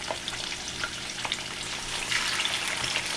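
Meat sizzling and crackling in hot oil in a pan, a steady close-up hiss with small pops and the occasional scrape.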